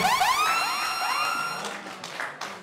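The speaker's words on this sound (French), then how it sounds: "Acclamation bien nourrie désormais." Applause and cheering at a festival crowd event, coming in over the fading end of a bright, swooping musical or synthetic tone, then scattered claps and crowd noise.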